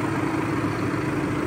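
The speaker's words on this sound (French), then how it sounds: "J'ai laissé le tracteur tourner" Tractor engine idling nearby, a steady low diesel rumble with a faint clattering texture and no change in pace.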